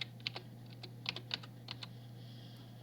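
Keys on a computer keyboard are tapped in an uneven run of soft clicks, close and quiet, over a steady low electrical hum.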